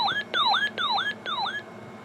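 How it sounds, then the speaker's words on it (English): A weather radio's electronic alert siren sweeps up and down in repeated wailing cycles, about four rises and falls in two seconds, loud and close with no talking. "I'll do a quick siren test."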